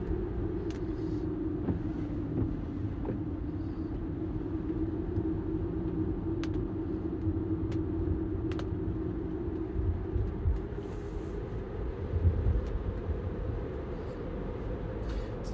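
A Tesla on Full Self-Driving takes the curves of the Tail of the Dragon, U.S. Highway 129. Steady cabin road rumble and tire noise carry throughout with a soft, even drone and occasional light clicks.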